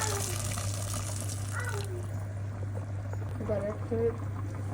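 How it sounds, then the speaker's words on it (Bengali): Hot water pours steadily into a curry cooking in a pot, a continuous close splash and gush with a voice talking over it. "এবার অ্যাড করে দিব গরম জল"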